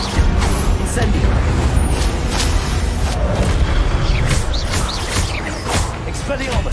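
Fire spell cast in a fantasy wizarding action game, a dense roaring rush with repeated booming bursts over steady loud background noise.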